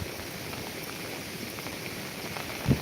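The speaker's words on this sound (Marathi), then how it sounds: "सध्या तरी इथे एक मुसळधार पाऊस चालू झाला आहे बघा" Heavy monsoon rain at Koyna, a steady close hiss of rain falling on surfaces, with one brief thump near the end.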